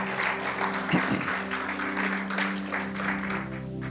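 A church congregation applauds the worship ministers. Moderate crowd clapping runs steadily under sustained keyboard or organ tones, with a few sharper claps near the start.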